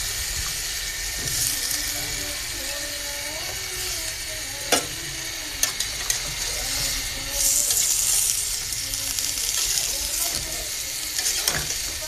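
Pieces of green plantain are frying in a pan with a steady bright sizzle, the food stirred with occasional scraping and clinks against the pan, close and continuous.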